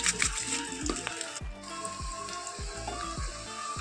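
Spices sizzle and fry in hot oil in a pan in a village kitchen, with repeated low scraping thuds from a spoon stirring at a steady rhythm, close and fairly loud throughout.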